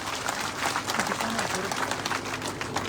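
A crowd at an outdoor political speech by MLA Indraj Gurjar in Mad Kundle claps steadily for about three seconds, a dense wash of hand claps with some murmuring voices mixed in.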